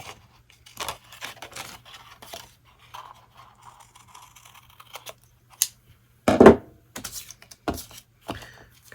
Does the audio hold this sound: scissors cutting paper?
yes